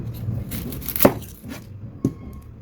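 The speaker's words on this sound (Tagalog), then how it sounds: "Ngayon naman ay maghiwa naman tayo ng sibuyas." Knife chopping onions on a cutting board, heard as two sharp separate chops about a second apart against a quiet background.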